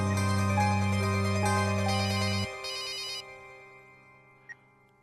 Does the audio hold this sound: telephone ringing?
yes